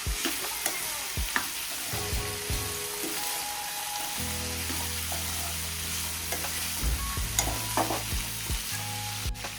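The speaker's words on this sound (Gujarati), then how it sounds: "આદુ લસણની પેસ્ટ ઉમેરીશું, સારી રીતે મિક્સ કરી લઈશું" Ginger-garlic paste sizzling in hot oil in a pan while being stirred for sweet potato sabji, a steady close frying hiss with scraping spoon strokes and occasional clinks, no talking.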